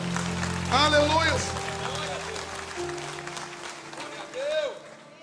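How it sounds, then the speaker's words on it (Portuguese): A church congregation applauds with a steady patter of clapping while a preacher's voice rises over it and keeps speaking throughout. "Você pode aplaudir ao Senhor nessa noite."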